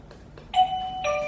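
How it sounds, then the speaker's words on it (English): A two-tone ding-dong doorbell chime sounds indoors at a home, close and clear. The first note rings out and is followed half a second later by the second, lower, sustained note, with no talking over it. "let's press the bell"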